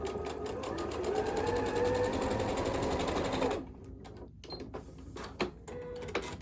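A sewing machine runs a quarter-inch seam on a flying geese quilt block, a close, steady rapid stitching rattle for a few seconds that then stops, leaving scattered faint clicks and handling sounds.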